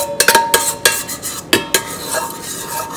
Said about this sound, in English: I'm actually going to scrape it into another bowl